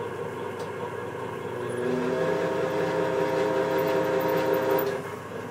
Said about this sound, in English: So this is the first of the braking runs on the Formula. 50 newton meters, dry conditions